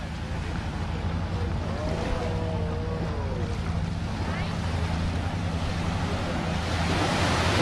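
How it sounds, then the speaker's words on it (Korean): Ocean waves in Krabi wash and roar steadily up close, building toward the end, blended with wind buffeting the microphone and a low engine-like hum. Voices are faintly present. "파도 소리 듣기만 해도 너무 좋아요."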